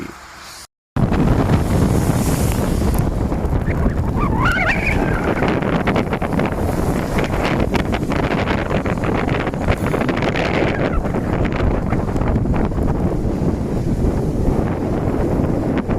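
A strong headwind buffets the microphone of a cyclist riding the last miles near the Erskine Bridge, producing a loud, continuous roaring rumble with gusting surges throughout.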